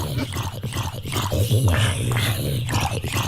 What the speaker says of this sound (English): that's the sound of all the monsters dying in the sun